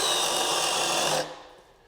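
A DeWalt power drill with an anti-rotation system whirs loudly and steadily for a moment, then winds down and stops, leaving quiet room noise.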